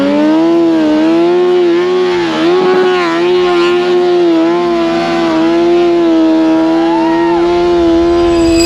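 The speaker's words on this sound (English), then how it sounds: "We took the world's fastest dirt bike, my 2008 Hayabusa, and we put a CMX snow bike kit on it." A 2008 Suzuki Hayabusa fitted with a CMX snow bike kit roars continuously and loudly up close while riding, its engine holding a strong steady drone with small rises in revs.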